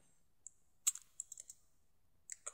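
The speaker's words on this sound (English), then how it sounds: "Now just press S on your keyboard." Keys tapped on a computer keyboard while editing in Sony Acid Pro 7.0, one firmer press followed by a scatter of light, close clicks and a couple more at the end, against near silence.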